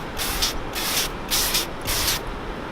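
An Instaset spray rig sprays textured coating mixed with catalyst in four loud, hissing bursts separated by short pauses, with no talking.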